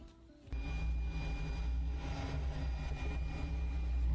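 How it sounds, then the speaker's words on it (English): A homemade jet engine starts up after a brief quiet moment and then runs as a steady, loud, low roar with a constant hum, sustained to the end. "we tried the jet engine again"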